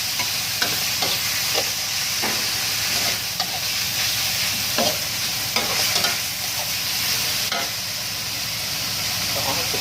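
Fatty beef and holy basil stir-fry cooked dry in a wok, with a steady loud sizzle and repeated scraping strokes of a spatula throughout, no talking.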